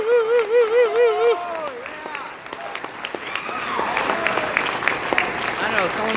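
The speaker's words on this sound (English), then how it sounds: "Please join me in a round of applause." A round of applause breaks out at an infantry regiment ball after a tonal melodic sound fades, with clapping from the crowd mixed with chatter and some voices.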